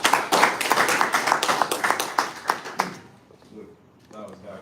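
Audience at a bodybuilding and powerlifting championship in northern Uganda clapping in a brief burst of sharp, dense hand claps, fading out after about three seconds into quieter room noise.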